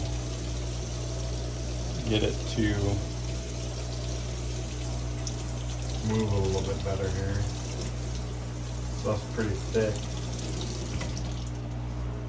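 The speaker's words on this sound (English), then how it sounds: "run it under a little bit of warm water" Warm tap water runs steadily over a container of thick liquid lecithin while gummies are made from FECO, a continuous close wash under a man's speech.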